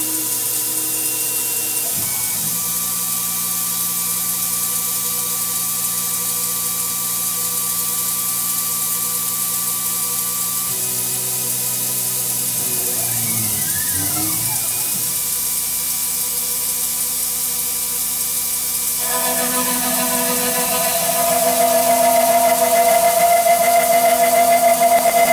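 A CNC mill cuts slots into a metal heat sink, giving a long steady machining whine with shifting tones, a sweeping pitch change midway and a louder, harsher stretch near the end.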